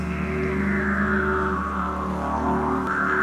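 Didgeridoo played to evoke heat rising on a hot outback summer's day, a continuous loud buzzing drone with shifting overtones, steady and unbroken with no voices.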